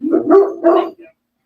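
A dog barks at fireworks: two quick close barks followed by a softer short yip, loud and alone, then silence.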